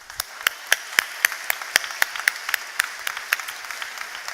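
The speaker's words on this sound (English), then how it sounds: "Can we give them a round of applause?" Commencement audience applauding the teachers, crisp rhythmic clapping with a steady beat of sharp claps over a softer background of many hands, fairly close and moderately loud, without talk.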